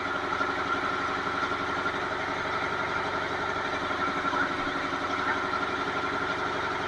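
A Mitsubishi 6D15 diesel generator engine idles steadily at close range, a continuous low throbbing rumble with even rhythm and no speech over it.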